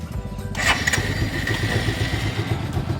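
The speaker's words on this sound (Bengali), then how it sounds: "এবার ক্লাচ ধরে স্টার্ট দাও।" A motorcycle engine cranks and catches with a sharp burst, then settles into a steady, throbbing idle, loud and close.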